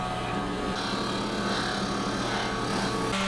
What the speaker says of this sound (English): And now we sand.